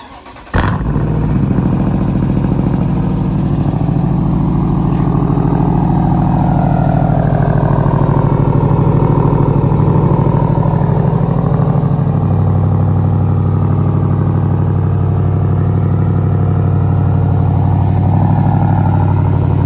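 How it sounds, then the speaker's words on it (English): A widebody Dodge Durango 392 with a mid-muffler exhaust cold-starts with a sharp crank and catch, then settles into a loud, deep, burbling high idle that holds steady and close throughout. "So I'm gonna give y'all a little cold start."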